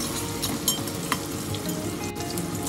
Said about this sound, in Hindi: 1-2 बरें बारीक चिल्लोले पियांव घालया आनी बरें सॉटे करया